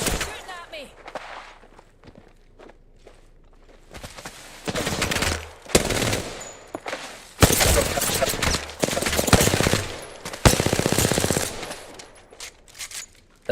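Rapid bursts of automatic gunfire in Apex Legends come in several loud volleys between quieter stretches, with a player talking over the action.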